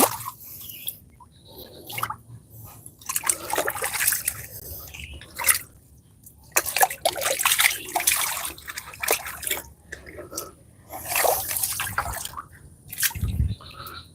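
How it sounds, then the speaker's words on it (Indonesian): Water splashing and dripping as rambutan trees are watered outdoors in a forest or orchard setting, coming in irregular bursts of spatter and trickle with short pauses between. "Yang sana belum kita siram rambutannya"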